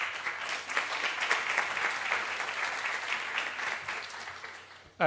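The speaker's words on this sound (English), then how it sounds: "give him a round of applause" Audience applause at a panel roundtable on antipoverty policy and juvenile justice reform, sustained clapping with crisp individual claps that runs for several seconds and fades near the end before a sudden sound cuts in.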